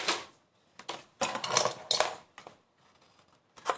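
Scissors snip through paper in a series of short, crisp cuts while cutting a corner for a handmade mini album, close and fairly quiet, with brief pauses between strokes.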